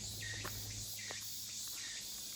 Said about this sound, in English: what you heard is the sound of this amazing cicada.